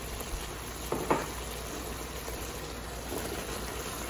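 Garlic and the white part of green onion frying on high heat with pork belly in a pan, a soft steady sizzle with a couple of brief clicks near the start, fairly quiet and continuous with no talking.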